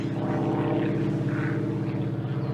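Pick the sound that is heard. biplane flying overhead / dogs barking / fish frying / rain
biplane flying overhead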